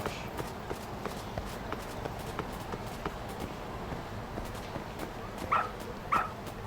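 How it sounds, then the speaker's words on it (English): A dog in the video game Lost Judgment barking and running, with soft rapid pattering steps throughout and two short sharp barks near the end, fairly quiet overall. "Very good dog."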